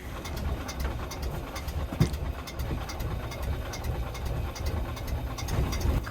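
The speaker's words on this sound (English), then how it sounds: "So, we're gonna start the engine." Engine of a 1969 31 ft sailboat running at a steady idle, a low continuous chugging rumble throughout with faint rattles on top, moderately loud and heard alone.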